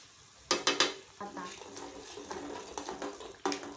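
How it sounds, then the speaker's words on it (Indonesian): Seasonings such as sugar, stock powder and salt being stirred into ayam kesrut in a pan, with several sharp metal clinks of a spoon against the pan over a soft background sizzle. "lalu aduk hingga rata"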